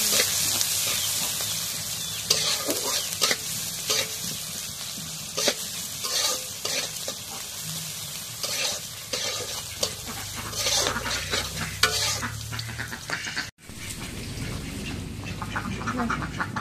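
Oil sizzles and spices are stirred in a pan for a rustic village-style khichuri with chicken and several spices, a steady close hiss with scraping stir strokes throughout, ducks quacking faintly in the background.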